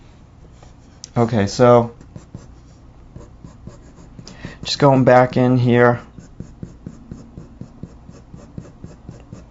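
A pencil scratches on paper in quick, repeated strokes that tick steadily all the way through. Someone talks briefly twice over the drawing.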